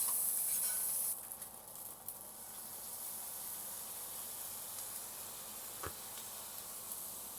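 Scallions sizzling in a pan for tofu ramen, a soft, even hiss of frying with a faint clatter or scrape partway through, quiet and steady, no voices.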